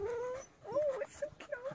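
A dachshund whimpers near the microphone in a few short, high, wavering whines with brief gaps between them, fairly quiet overall.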